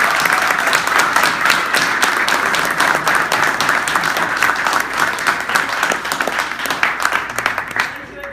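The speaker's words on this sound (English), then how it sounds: "Why don't we give our candidates a round of applause?" Audience at a candidate debate breaks into sustained applause, a loud, steady wash of many hands clapping that carries on for several seconds before slowly thinning out.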